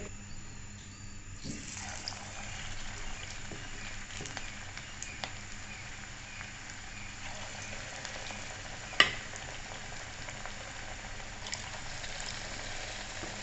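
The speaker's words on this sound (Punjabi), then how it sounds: "ਤੇ ਤੇਲ ਵੀ ਆਪਣਾ ਤਕਰੀਬਨ ਗਰਮ ਹੀ ਹੈ ਤੇ ਹੁਣ ਆਪਾਂ ਇਹਨੂੰ ਕਰਦੇ ਹਾਂ ਜੀ ਫਰਾਈ" Battered cauliflower florets for pakoras deep-fry in hot oil, giving a steady, low sizzling hiss that runs on throughout, with a sharp click partway through.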